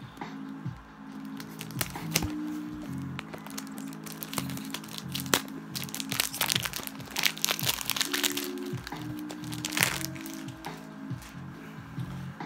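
A fragrance package being unboxed, with close crinkling, rustling and crunching of packaging and fabric, coming in irregular bursts of handling and no talking.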